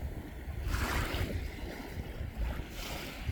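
Ocean waves wash against the beach on Delft Island, a steady low rumble of surf with swelling surges, mixed with wind noise and no voices.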